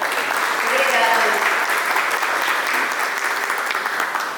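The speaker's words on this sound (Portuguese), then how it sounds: "mos mencionar a presença do maestro Lineker, por favor, uma salva de palmas." An audience at a farewell ceremony for a lumberjacks' club gives a round of applause, a dense and steady wash of clapping that stays loud and even throughout.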